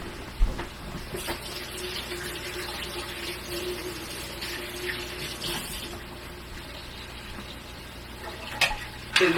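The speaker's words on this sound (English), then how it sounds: "Let me wash my hands, guys." A kitchen tap runs steadily as hands are washed beneath it, a continuous close water rush with faint splashing, ending in a couple of sharp clacks.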